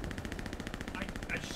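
Rapid, evenly spaced shots from an M1 Carbine in the video game Hell Let Loose, a quick steady string of sharp cracks heard fairly faintly.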